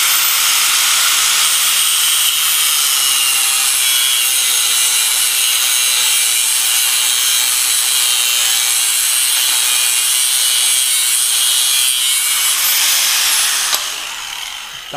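A cutting disc grinds on a motorcycle part during chain kit repair, giving a loud, continuous abrasive screech that holds steady for about thirteen seconds before tapering off.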